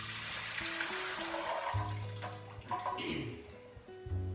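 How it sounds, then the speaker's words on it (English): Water draining from a bowl of soaked almonds, a soft running trickle and pour with small splashes and drips, fairly close but quiet. "we're going to drain them from the water. So we'll take all the water out"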